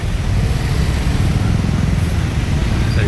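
Stalled road traffic at Kelaskar Naka in Dapoli during the Ganpati festival, with cars, motorcycles and state buses: a steady, dense low engine rumble fills the scene without a break.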